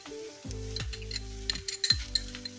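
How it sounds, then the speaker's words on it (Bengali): Chopped tomato added to a sizzling pan for a cheesy chicken brinjal dish, a soft sizzle with a few light clinks of utensil on pan, brief and fairly quiet behind a steady musical tone. "ওর মধ্যে দিয়ে দেবো এবার আমি টমেটো কুচি"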